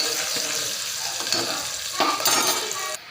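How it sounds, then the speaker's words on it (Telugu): Onions for a pressure-cooker chicken curry fry in a pan with a close, steady sizzle, broken by several stirring scrapes that grow louder near the end. "కొద్దిగా ఆనియన్ అయితే ఫ్రై అవ్వాలి"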